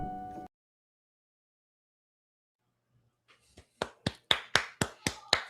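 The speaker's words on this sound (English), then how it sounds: "People are clapping all around the world" After a short burst of sound and a stretch of silence, a few people clap in sparse, sharp, evenly spaced claps that grow slightly louder over the last two seconds.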